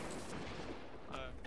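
Gunfire in an online multiplayer shooter during a 4v4 cross-platform tournament final, a dense, steady stream of shots and impacts layered under excited team voice chat.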